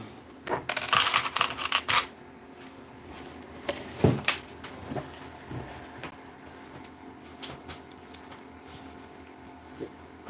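Small plastic LEGO bricks click and rattle together during a live building session of a LEGO-style Voltron, with a dense burst of sharp clicks early on, then scattered, quieter snaps and handling noise.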